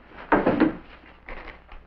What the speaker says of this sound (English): There's usually some in this top drawer, isn't there?